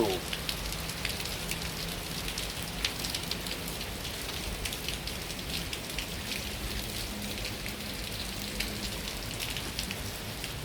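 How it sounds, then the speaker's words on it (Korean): Steady rain falls and drips at Magoksa, a mountain temple in Gongju, making a dense, even patter that stays close and continuous with no voices. "빗물 떨어지는 소리"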